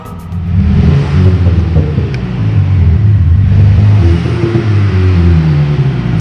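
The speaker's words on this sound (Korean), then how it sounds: "아마 이게 어 4기통인가 6기통 사운드일 거예요. 밟아봐." A Renault Grand Koleos plays an active sound system engine note, a simulated four- or six-cylinder, revving loud and close with a continuous deep rumble that swells and eases.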